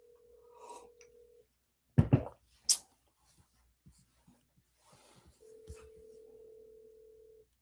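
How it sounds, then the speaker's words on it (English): Phone call being dialed on a handset, with a steady tone, a few sharp clicks and button thumps in the middle, then a ringing tone returning as the line connects, faint and close with a little background movement. "I'm gonna try and call Nader here."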